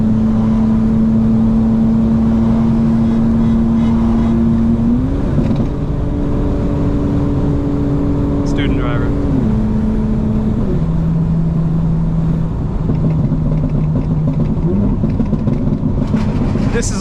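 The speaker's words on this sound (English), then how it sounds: "But who's driving with the windows up when you have an exhaust like this?" A loud, droning 900 hp 2025 BMW M4 Competition engine and exhaust hums close by while accelerating, its pitch stepping up and down through gear changes, with no clear voices.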